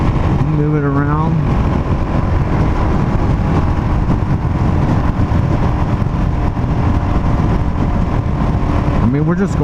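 A 2019 Suzuki DRZ400 SM motorcycle cruises down a straight road at a steady, loud engine drone, mixed with heavy wind roar, and a rider talks briefly at the start and end.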